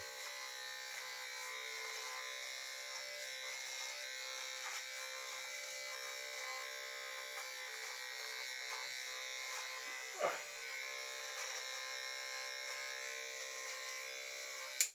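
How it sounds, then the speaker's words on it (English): A BaByliss men's electric beard trimmer buzzes steadily and close up for the whole stretch, with a brief bump in tone partway through and a click at the end. "That's the babyliss men's. This is just does exactly what it says on the tin. Not that it says beard trimmer, but it is."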